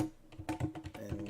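Typing on a computer keyboard, a quick irregular run of light key clicks with short gaps, close and fairly quiet, with no voices.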